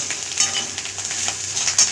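Fish roe fries with chili powder in a hot pan, giving a steady close sizzle with crackly spits and brief sharper pops scattered across the short stretch.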